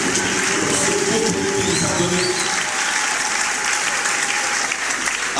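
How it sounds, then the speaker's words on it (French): A church congregation applauds loudly and steadily throughout, dense continuous clapping filling the room with some voices mixed in. "bien et acclamons très fort le Seigneur"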